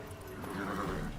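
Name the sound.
horse Roach neighing in video game Witcher 3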